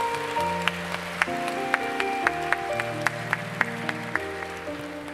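A church congregation at a special Friday worship service claps loudly in praise, sustained clapping running beneath sustained organ or keyboard chords, with distinct claps standing out at regular intervals.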